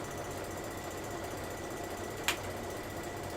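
An embroidery machine hums in a steady, faint mechanical drone while stitching, with a single brief click partway through.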